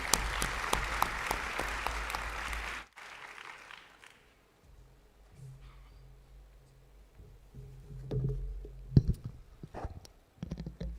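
Conference audience at a high-level UN water meeting in Dakar claps for about three seconds, a dense burst that cuts off abruptly, followed by scattered faint clicks, shuffles and room noise.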